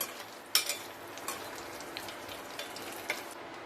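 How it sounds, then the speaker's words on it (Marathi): Paneer cubes frying in hot oil over a low flame, a soft steady sizzle with scattered small pops and crackles, close and fairly quiet. "पनीरचे क्यूब आपल्याला तळून घ्यायचे आहे गॅसची फ्लेम लो ठेवूनच पनीर आपल्याला फ्राय करायचं आहे"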